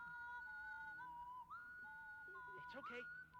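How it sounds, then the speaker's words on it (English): Strangers whistling a melody in the woods in a game, clear tuneful whistled notes rising and falling steadily, with faint speech-like sounds near the end. "This is when we begin to hear strangers whistling."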